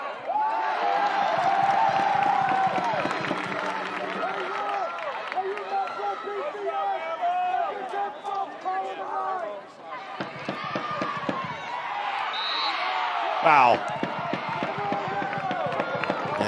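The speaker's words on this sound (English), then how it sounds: "And good applause here from the Alabama fans." Alabama fans at a women's college soccer match against South Carolina applaud and cheer as a broad crowd roar, while a commentator talks over it and someone exclaims.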